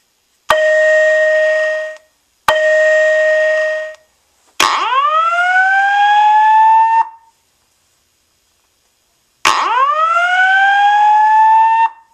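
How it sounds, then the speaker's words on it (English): Loud alert tones from a Simplex voice evacuation test on a Faraday 2954 (Siemens) fire alarm system: two steady tone blasts, then two long rising whooping sweeps separated by silence, close and piercing with no talking. "now we will test the simplex message"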